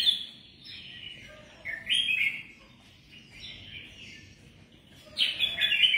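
Songbirds kept in a Vietnamese bird-keeping setting chirp in bright, close bursts, with a quieter stretch in the middle and a livelier flurry at the end, no talking.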